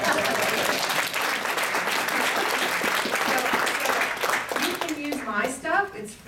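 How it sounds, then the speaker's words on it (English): Audience applause fills a conference room at a big data tech talk, dense steady clapping from a crowd throughout, with a few voices rising near the end as it tapers. "You want some applause on that?"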